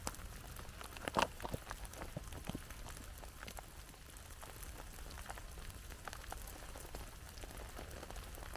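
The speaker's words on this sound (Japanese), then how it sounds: "今ね、雨降ってきちゃったんで" Rain begins falling at a snowy winter campsite with a tarp and campfire, a soft steady patter of drops with a few louder taps close by.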